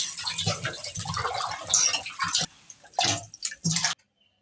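Pieces of fresh rohu fish are rubbed with salt and rinsed in water, with close splashing, dripping and sloshing in uneven bursts that break off into near silence at the end.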